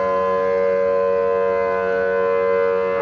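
A Federal Signal 1000T civil defense siren sounds during a monthly test, a loud, steady, sustained wail with no break, alone and without talk.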